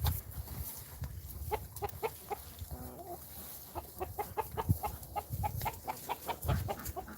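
Chickens cluck and chatter in their farm habitat, a steady stream of short, rhythmic clucks near and far over low background rumble and shuffling, with no clear talking.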